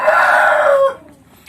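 Chickens clucking with a rooster crowing at a farm, a loud crow dominating the first part of the sound before fading out into quiet.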